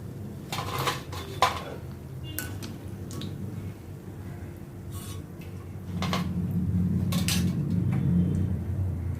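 Fried moong dal and flour khasta snacks are lifted onto a plate, with scattered metallic clinks and taps of a slotted spoon against the pan and plate over a low kitchen hum.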